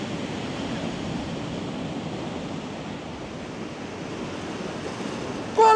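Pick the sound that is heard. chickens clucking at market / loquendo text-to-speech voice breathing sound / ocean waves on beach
ocean waves on beach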